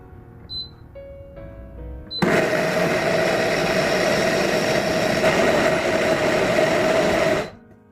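A grinder churns soaked soybeans for homemade tofu, starting with a sudden loud motor roar that holds a steady high whine for about five seconds before cutting off, with a few faint beeps before it starts.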